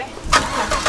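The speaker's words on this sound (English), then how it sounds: "I'm gonna start the car up" A big turbo Camaro engine cranks and catches in a brief, loud burst, with a quick second surge as it fires up close by.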